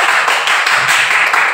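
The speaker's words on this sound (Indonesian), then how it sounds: "Oke, tepuk tangan dulu." A class of students claps hands together during a lesson, loud close clapping with a few distinct rhythmic bursts over a short stretch.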